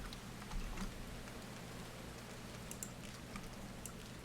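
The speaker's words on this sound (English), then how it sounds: "You guys still hear the rain and the footsteps and everything." Steady rain falling in a video game, a faint continuous patter with scattered tiny ticks and drips over a low background hum, quiet and with no one talking.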